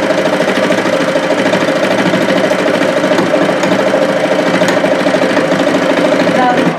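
Felting machine needles punching yarn fibres into felt under cling film, a steady, loud, rapid mechanical chatter running continuously throughout with no pauses.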